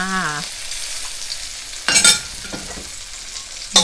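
Hot oil sizzles and crackles steadily, with louder bursts of frying as pounded chili and garlic drop into the wok and get stirred.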